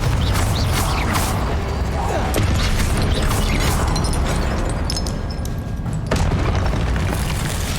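Confringo blasting spell explosions in Hogwarts Legacy: booming, crackling bursts within a dense, continuous layer of game effects, loud and close throughout with a fresh impact near the end.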